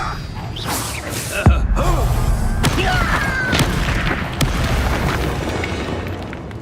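Fiery Confringo spell blasts and booming explosions from a Hogwarts Legacy battle, loud and continuous with sharp cracks and whooshes over a dense rumbling background.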